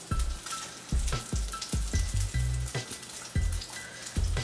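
Grouper fillets fry in a hot pan with a steady crackling sizzle, and occasional sharp pops and scrapes rise above it, close and fairly loud with no talking.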